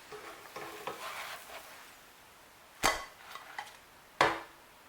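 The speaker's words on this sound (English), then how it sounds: "So fry the other side for approximately 1 minute" A pancake fries in oil in a pan for a Cameroonian pancake recipe, giving a faint steady sizzle with soft stirring scrapes and two sharp metallic clinks of a utensil against the pan.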